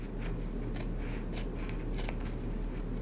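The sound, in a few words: scissors cutting through fabric layers to the corners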